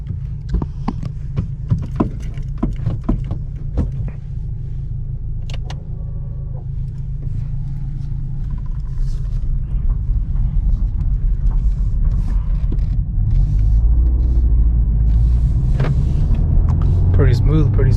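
Honda Civic Type R on a test drive, with a steady engine and road rumble heard from inside the cabin that grows louder in the second half, along with a few clicks and light interior sounds.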